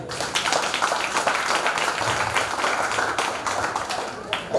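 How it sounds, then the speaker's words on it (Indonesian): An audience at a mosque lecture claps, a dense, continuous burst of applause with crisp individual claps, fairly close and loud, sustained for several seconds. "Kasih tepuk tangan dulu untuk BKPRMI."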